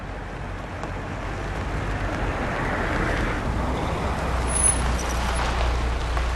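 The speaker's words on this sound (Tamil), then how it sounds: "அண்ணா அந்த லெஃப்ட்ல கொஞ்சம் வண்டி நிப்பாட்டுங்க" A vehicle, likely a bus or truck, pulling over to the left and coming to a stop, with a steady low engine rumble and road noise throughout and a brief faint air-brake hiss near the end.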